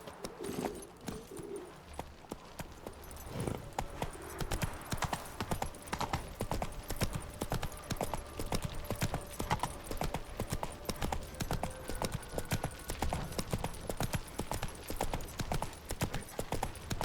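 Hooves of Roach, the horse in The Witcher 3, clip-clopping in a steady, even trot throughout, moderately close, with faint bird calls in the background.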